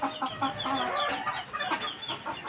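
A farm rooster clucks in a rapid run of short, throaty calls, fairly close and moderately loud, with no talking.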